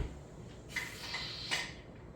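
A metal pressure canner weight is set onto the vent of a canner holding beef stew, producing a couple of short, close metallic clunks over a steady background hiss.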